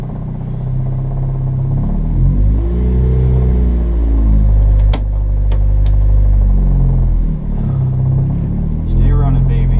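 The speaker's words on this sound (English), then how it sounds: "we are going to take it for the first official drive on Megasquirt" Car running on Megasquirt engine management pulls away on a first drive, a steady loud low engine rumble with rising and falling revs throughout, a few sharp clatters midway.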